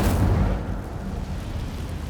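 The Incendio fire spell in Hogwarts Legacy bursts out with a loud, rumbling whoosh that is strongest at the start, then settles into a sustained roaring crackle that fades only slightly over two seconds.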